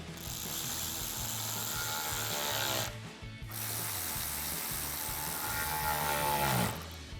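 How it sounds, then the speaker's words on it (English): A ratchet with a 7mm socket clicks steadily while tightening intercooler couplers on a Ford F-150, a dense run of close, even pawl clicks that pauses briefly near the middle and then resumes. "Then we're going to tighten down both of our couplers with a 7mm socket and a ratchet."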